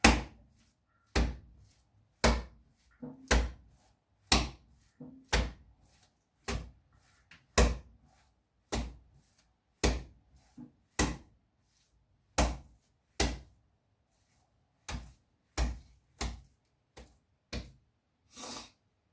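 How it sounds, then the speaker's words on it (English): Homemade bread dough is kneaded by hand on a work surface, giving a steady series of soft thumps and slaps, each press a separate muffled hit, close and regular and with no talk. "knead it, but we're not gonna knead it too much"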